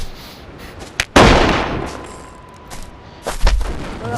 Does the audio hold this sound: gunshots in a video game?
yes